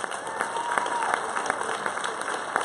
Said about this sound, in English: let's give a warm round of applause for Mr. George Hard.